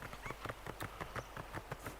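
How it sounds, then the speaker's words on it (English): Horse hooves clip-clop in a steady, quick rhythm as a horse rides out in Assassin's Creed Valhalla, the close, evenly spaced beats continuing without pause and without talk. "jump on the horse and ride out"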